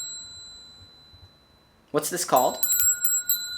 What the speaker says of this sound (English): This is called a bell.